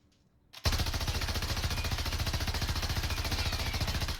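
MG34 light machine gun in the video game Warzone firing one sustained burst after a brief quiet start, a rapid even stream of loud shots that continues to the end.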